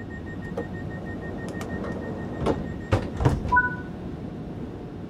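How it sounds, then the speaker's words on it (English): Doors on a Class 377 electric train in Train Sim World 5 lock with a few sharp clunks and a brief mechanical rattle, followed by two short electronic tones over a low, steady cab hum. "Set the doors to locked."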